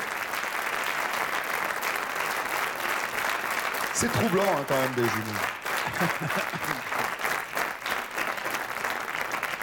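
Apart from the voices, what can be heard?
audience applauding twins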